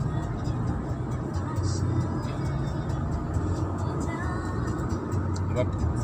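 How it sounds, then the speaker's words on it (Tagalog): Outing vehicle carrying a batch '87 reunion group, a steady broadband road rumble and engine drone throughout, with passengers chatting under it. "Tumatakbo na yung sasakyan namin."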